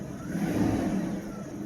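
A 1997 Mercedes S600 V12 engine idles steadily, a smooth low hum heard up close with no talking.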